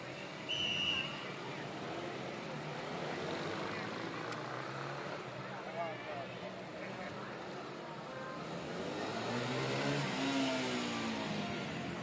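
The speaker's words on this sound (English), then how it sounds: "Rochester Shrine Cycles trying to get some rubber off their tires." Rochester Shrine Cycle Patrol motorcycles at a Fourth of July parade in Cannon Falls rev their engines and spin their tires, a steady roar of engine noise with rising surges near the start and again toward the end.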